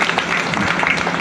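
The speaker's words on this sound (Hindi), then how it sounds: "उसके लिए आप सब अपने लिए ताली बजाओ" An audience at a senior citizen honor ceremony claps for themselves in a steady, dense patter of applause that fills the room without a break.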